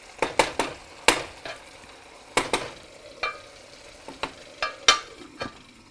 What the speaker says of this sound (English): We can let it simmer for around 2 minutes and it'll be ready then.